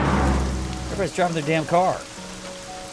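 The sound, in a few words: rain falling in the video game Troubleshooter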